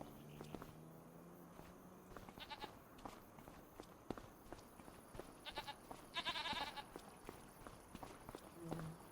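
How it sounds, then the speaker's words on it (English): Sheep and goats bleat at a farm in Farming Simulator 25, short faint calls scattered over footsteps and soft ambient game sounds. "We have the sheep and goat farm here."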